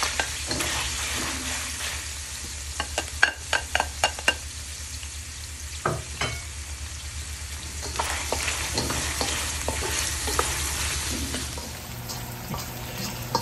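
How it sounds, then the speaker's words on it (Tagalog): Garlic and onions sauté in a pan for pork menudo, a continuous bright sizzle with frequent sharp spatula taps and scrapes as they are stirred, close and steady throughout. "So ngayon, magigisa na tayo. Pagsasabayin ko ng bawang at sibuyas."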